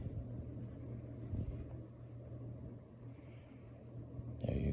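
A 60-inch solid wood-blade ceiling fan runs on speed setting 5, giving a steady low whooshing hum of moving air with a faint motor tone, fairly close and constant, with no talking.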